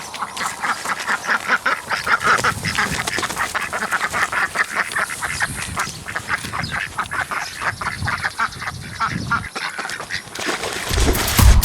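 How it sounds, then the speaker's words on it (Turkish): Ducks and geese quack and honk at a pond in Denizli, a loud, rapid, overlapping chorus of calls that carries on without pause, close by. "buradaki ördeklerle röportaj yapmaya gidiyoruz"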